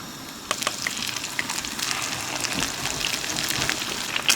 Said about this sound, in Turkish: İkişer ikişer atacağım ve kızartacağım.